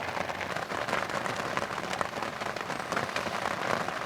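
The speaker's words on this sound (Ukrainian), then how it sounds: "Ви чуєте, як тарабанить дощ по човну?" Heavy rain drumming steadily on an overturned boat overhead, on an island in the Dnipro river at night, a dense continuous patter, loud and close, with no voices.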